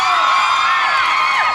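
A crowd at a Binyang Laguna event shouts together on command, a loud sustained roar of many voices with cheering and whoops lasting the whole stretch.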